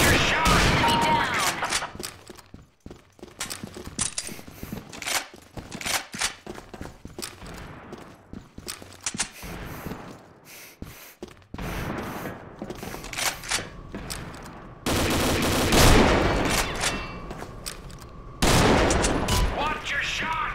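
Rapid bursts of gunfire from the online shooter game Combat Arms: Reloaded, played in a laggy match, crackle in uneven volleys with brief quiet gaps, loud and close, with short voice callouts mixed in.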